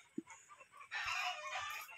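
Chickens in a Filipino village yard: a short cluck comes first, then a rooster crows loudly for about a second, with more faint clucking around it and no talk.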